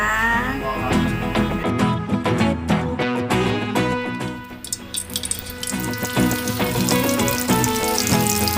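A fish fillet fries in oil in a pan while hot oil is spooned over it, giving a dense, loud, continuous sizzle and crackle close up throughout, with no voices.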